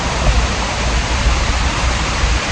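Loud, steady roar of rushing water at Demala Ella waterfall in Sri Lanka, a dense continuous wash with no pauses, close and alone with no voices.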